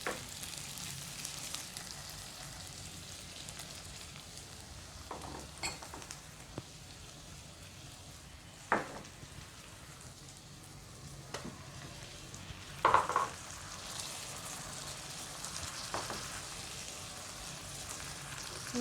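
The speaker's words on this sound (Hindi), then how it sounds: "इनको अच्छे तरीके से मिक्स करने के बाद कम से कम 5 मिनट के लिए भून लेंगे" Onions and spices being sautéed in a pan for a turnip and milk curry, a faint low sizzle with scattered scraping stirs and a few louder clunks, heard close with no talking.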